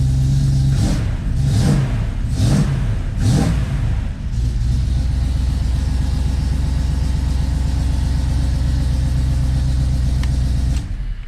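Chevy Astro van with a 350 small-block Holley fuel-injected V8: four sharp revs in quick succession, then a steady, deep, close idle rumble continuing to the end.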